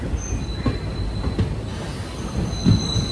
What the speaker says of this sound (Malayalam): മേലേപ്പാളയം സ്റ്റേഷനിലേക്ക് ഇതാ ട്രെയിൻ എത്തുകയാണ്